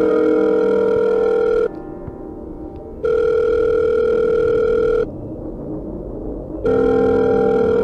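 A cartoon-style phone call tone sounds in steady electronic bursts, three long beeps separated by quieter gaps of low rumbling cave ambience, clear and alone without any talking.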